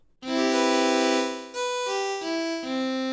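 A synthesized string pad sustains a chord, then shifts through several changing chords, smooth and steady with no voices.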